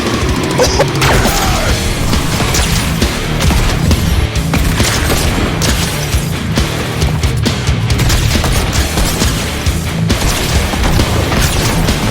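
Fortnite Chapter 6 gameplay with dense, continuous gunfire and booming explosions, loud and relentless for the whole stretch with crashes and bursts layered over each other.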